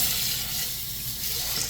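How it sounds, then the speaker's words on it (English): Hands washed under a running kitchen tap while preparing oven-roast snapper, a steady close rush of water lasting under two seconds, with no talking. "Let me just wash my hands."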